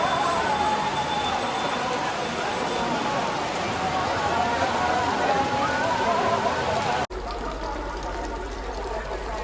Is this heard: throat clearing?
no